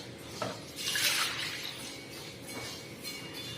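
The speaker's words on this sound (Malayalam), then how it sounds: "നമ്മൾ നേരത്തെ എടുത്തു വെച്ച പാല് ഇതിലേക്ക് ഒഴിക്കാം." Milk poured into a container for payasam gives a soft liquid splash and trickle with faint clinks. It is quiet and heard alone.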